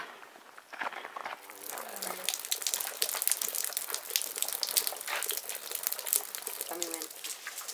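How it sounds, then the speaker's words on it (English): Spring water trickles and splashes from a rock at Dripping Springs in the Grand Canyon, a steady, fairly faint stream, with a voice briefly speaking over it. "there's water coming out of a rock in the middle of the Grand Canyon"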